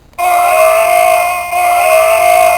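A loud, steady electronic alarm tone with bright harmonics from a Jurassic Park Mobile Command Center toy starts abruptly and holds for a couple of seconds with a brief dip midway, no talking.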